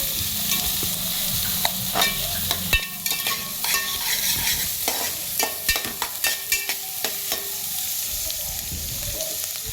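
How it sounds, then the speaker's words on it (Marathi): Finely chopped capsicum sautés with onions in a pan for pav bhaji, with a continuous sizzle and frying hiss punctuated by repeated spoon scrapes and taps as it is stirred. "आता आपण याच्यामध्ये शिमला मिरची कापून घेतलेली आहे लहान लहान, ती घालून घेऊया. कांद्याबरोबर परतून घ्यायची आहे व्यवस्थित."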